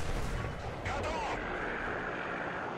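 Tank cannon HE rounds fire in War Thunder, heavy booming blasts over a constant rumble of battle noise, with a voice speaking faintly underneath.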